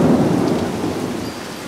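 A Florida thunderstorm rolls with a loud low rumble of thunder over a dense roar of heavy rain, close and continuous, gradually easing in strength with no voices.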